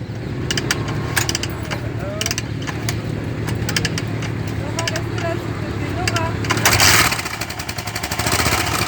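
A motorcycle engine in cold weather catches after a stubborn start and keeps running with a steady, close mechanical drone, rising briefly in a louder rev near the end, while people talk over it.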